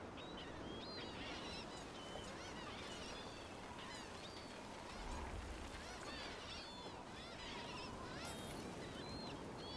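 Geese honking by the water in Dragon Age: The Veilguard, with repeated overlapping calls over a steady, dense ambient bed of water and wind. The calls sound mid-distance and fairly loud.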